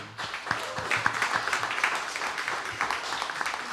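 A live-music crowd at a radio station show claps for the opening act, a steady round of applause with scattered individual claps throughout.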